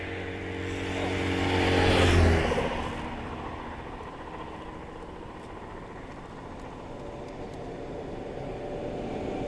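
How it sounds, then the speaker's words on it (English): Cars passing on a road near a bluegill fishing spot: one vehicle swells to a close, loud rush around two seconds in, then fades into a steady, quieter traffic hum. "A lot of cars going through there."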